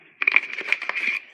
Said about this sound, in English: I'll use scissors.